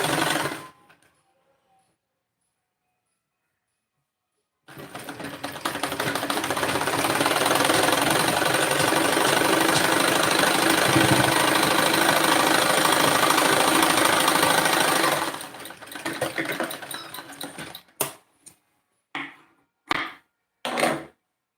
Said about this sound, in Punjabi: ਸਭ ਤੋਂ ਪਹਿਲਾਂ ਐਦਾਂ ਪੌਂਚੇ ਨੂੰ ਰੱਖ ਕੇ ਐਦਾਂ ਸਲਾਈ ਖਿੱਚਣੀ